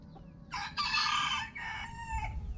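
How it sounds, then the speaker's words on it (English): Chickens squawk and crow in loud, harmonic bursts at a small campsite in the northern Netherlands, a couple of drawn-out calls close by over a low background hum. "Pheasants and turkeys and chickens."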